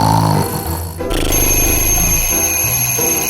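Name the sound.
alarm clock ringing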